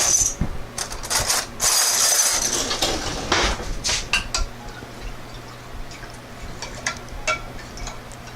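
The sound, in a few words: getting another spoon, cutlery and dishes clinking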